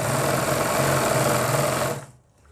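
A sewing machine runs a steady, fast stitch along a palazzo waistband strip, buzzing loudly and closely for about two seconds before stopping abruptly into near silence.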